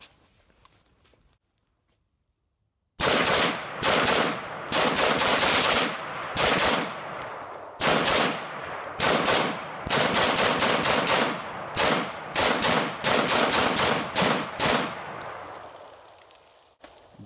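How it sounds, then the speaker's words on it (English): An AR-pattern rifle fitted with a Tac Con 3MR positive-reset trigger fires a string of very rapid, loud shots with metallic clanks. The shooting comes in quick bursts with brief gaps after a short silence, and no one talks. "just drop the bolt when you're ready to go and just try to shoot it as rapidly as you can"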